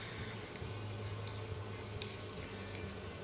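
An aerosol spray can paints the bumper of a VW Passat B1 in short hissing bursts, about seven quick sprays in a row with brief gaps between them, fairly close and quiet.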